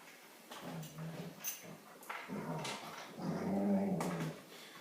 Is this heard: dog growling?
yes